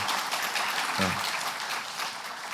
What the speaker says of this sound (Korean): 인사할 때 큰 박수로 축복해 주시기 부탁드립니다